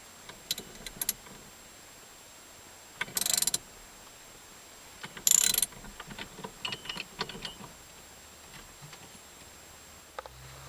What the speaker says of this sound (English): I'm just tightening this bolt up so now you can see you can pull it off here